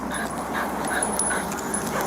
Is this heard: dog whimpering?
yes